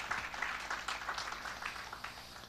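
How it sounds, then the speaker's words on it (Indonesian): Brief scattered applause from a congregation during a church service, a few seconds of uneven hand clapping at moderate volume in an indoor setting. "berikan tepuk tangan"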